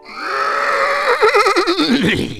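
A single loud horse whinny from a video game rises and then trembles into a wavering, fluttering neigh, close and clear with nothing else around it.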